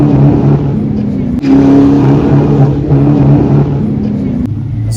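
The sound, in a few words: car engine breaking up while accelerating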